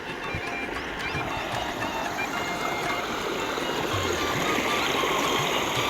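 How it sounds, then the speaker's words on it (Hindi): Water flowing along a watercourse of the New Nara Canal, a steady broadband rushing and trickling that holds even and fairly loud throughout, with no voices. "पानी जो ज़्यादा आप देख रहे हैं वाटर कोर्स में"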